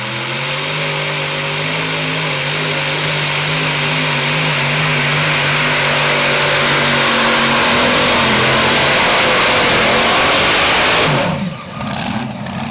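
The engine of a pulling truck called Wasted Nights roars loudly and steadily at a truck and tractor pull. The revs hold high, then shift and drop toward the end, with a brief cut near the close.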